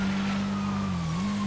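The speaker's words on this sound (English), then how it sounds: "I still hear sirens." Police sirens in GTA 5 roleplay: a steady, moderately loud wailing siren tone with a slight dip in pitch, heard continuously over a low vehicle rumble.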